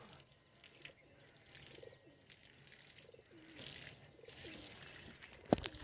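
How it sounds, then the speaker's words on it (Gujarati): Soft, repeated pigeon coos sound at a modest distance, with a brief burst of flapping wings near the end. "કબૂતર ઉડે છે બધા જો"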